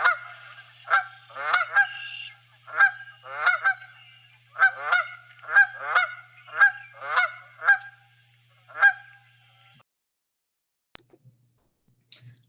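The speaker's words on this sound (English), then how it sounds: "back that up with the Canada goose call" Canada goose honking from a recording, a dozen or so loud, clear two-note honks in an irregular rhythm over a low steady hum, ending abruptly into near silence.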